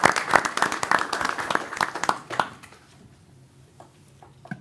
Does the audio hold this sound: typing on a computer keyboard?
no